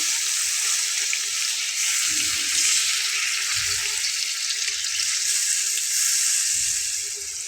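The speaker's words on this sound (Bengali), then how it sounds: "তো দেখুন আমি পানিটা দিয়ে নিচ্ছি।" Water pouring into a hot pan of beef tripe and potatoes being cooked as bhuna, a steady hissing sizzle with a rushing pour throughout and a few low knocks from the pan.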